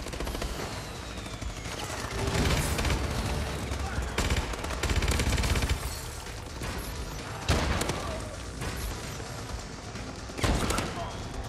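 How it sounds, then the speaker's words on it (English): Rapid gunfire from several weapons in a competitive video game match, with dense bursts of automatic fire and heavy booming shots arriving in repeated loud waves over a constant background clatter. "4 different guns used in this 5-kill spree, starting things off with the bow"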